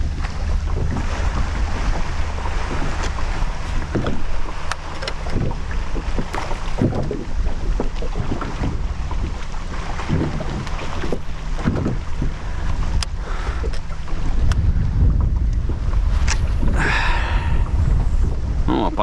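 Strong wind buffets a fishing boat on Lake Onega while waves slap and wash against the hull, a steady rumbling roar with gusting microphone wind noise, close and loud throughout.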